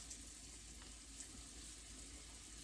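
Steak strips for a Mexican steak and beans dish fry in moderately hot oil in a home kitchen, giving a steady, quiet, even sizzle throughout with no voices.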